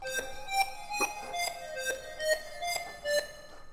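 Trap beat synth melody with choir-like tones, a sequence of bright sustained notes over a soft bed, moderately loud and steady with no voices.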